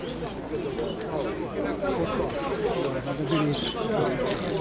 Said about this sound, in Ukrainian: Ось такі голуби.